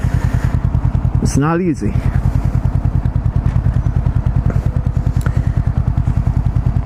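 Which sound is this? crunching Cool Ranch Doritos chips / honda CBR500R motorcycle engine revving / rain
honda CBR500R motorcycle engine revving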